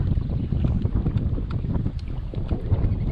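A sailboat beating dead upwind through a narrow cut past Bull Island, with a steady low rush of wind and water and gusty microphone buffeting throughout, no voices.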